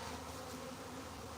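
A swarm of bees buzzes in a steady, dense drone that holds at a low, constant level throughout, with no voices, close around the listener on a farm.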